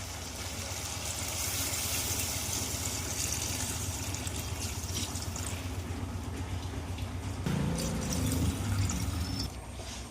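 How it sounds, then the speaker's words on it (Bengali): Water pours into a pot of browned, spiced chicken curry, a steady rushing flow that shifts in tone near the end as the pot fills, fairly close and unaccompanied by talk. "এবার আমরা জল দিয়ে দেব।"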